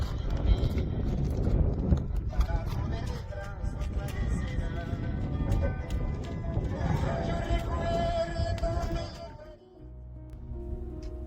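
Horses walk through the Cordillera Blanca mountains of Peru, their hooves clip-clopping steadily and close, with voices talking alongside before the sound drops away near the end.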